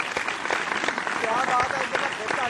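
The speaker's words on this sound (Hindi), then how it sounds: "आप सब लोगों की भरपूर तालियों में रेशम।" A studio audience at an Eid special television show claps to welcome a guest, a dense, continuous wash of applause with faint voices and cheers mixed in.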